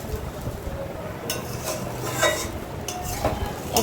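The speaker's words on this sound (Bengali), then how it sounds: "এখন আমি একটু নাড়াচাড়া করে নিলাম" A metal utensil stirs cooking noodles in a pan, giving a few close scraping swishes and light clinks against the pan over a low steady background, with no voices.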